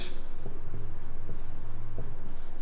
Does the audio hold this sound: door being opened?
no